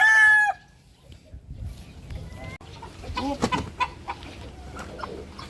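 A rooster crows close by, then hens cluck and murmur in a busy, continuous chorus.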